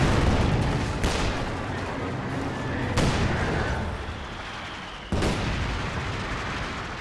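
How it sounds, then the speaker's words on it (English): Artillery shells from indirect fire in the Company of Heroes 2 game, a 2v2 match: a steady rumbling barrage with three sharp, loud impacts spaced a couple of seconds apart, no voices. "Indirect fire is just making life so miserable for us right now"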